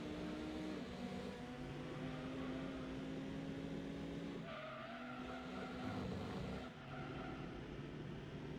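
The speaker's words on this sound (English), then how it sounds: "It's the engine note of this car." In a racing video game, a car engine hums at a steady, fairly quiet pitch, shifting slightly up and down with a faint squeal underneath and no voices.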